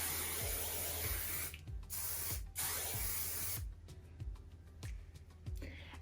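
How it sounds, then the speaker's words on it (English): Finishing hairspray sprayed onto hair for a soft glam New Year's Eve style, heard as two long hissing aerosol bursts up close, each lasting around a second, with soft rhythmic low thumps running underneath. "I'm just gonna hit it with some finishing spray"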